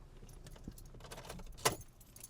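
Car keys for a 2005 Volvo S60 jangle briefly with one sharp metallic burst, close and distinct over a quiet background.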